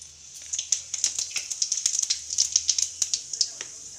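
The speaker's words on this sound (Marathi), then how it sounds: "तर मी आता पहिले जिऱ्याची फोडणी देते आहे." Cumin seeds crackle and spit in hot oil during tempering, a dense run of sharp little pops over a steady hiss, close and fairly quiet.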